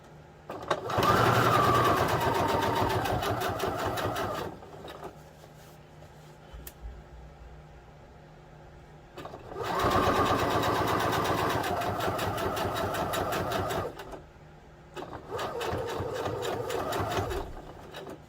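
A domestic sewing machine top stitching at its longest stitch length, 4.5, while making a double critter apartment: two long loud runs of steady rapid needle clatter with a short burst at the end, separated by quiet pauses.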